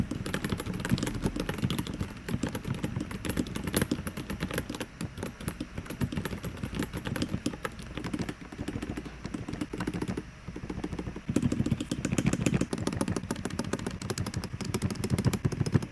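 Typing on a Redragon Eisa K686 Pro gasket-mount wireless mechanical keyboard, a steady, close stream of fairly quiet clacky keystrokes, with a louder flurry near the end and no talking.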